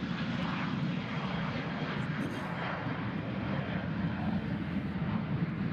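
A Southwest jet airliner departs Nashville International Airport toward Baltimore, its engines giving a broad, sustained roar that holds steady and fills the whole stretch, fairly loud and without talk.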